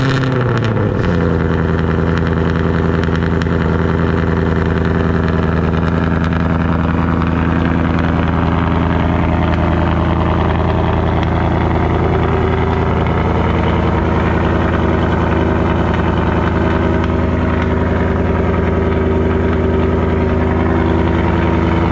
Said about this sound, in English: I wanted to give you a cold start real quick